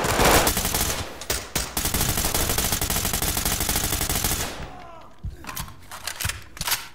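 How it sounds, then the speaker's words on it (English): Heavy automatic gunfire in a chaotic shootout from the tactical shooter Ready or Not, dense and loud bursts rattling almost continuously, then dropping off into scattered shots and quieter gaps near the end. "More often, gunfights are deafening clusterfucks with bullets flying everywhere."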